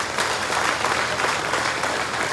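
Audience at a celebration applauding steadily, a dense continuous wash of many hands clapping at moderate loudness, with no voices rising above it.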